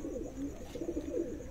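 A prized pigeon of good colour and fine build coos softly in low repeated throaty phrases, close by, with no talk over it.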